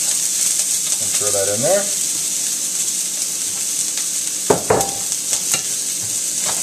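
Onions, peppers and garlic tossed into a hot wok for fried rice sizzle steadily throughout, with a few sharper clatters of stirring near the end; a voice speaks briefly near the start.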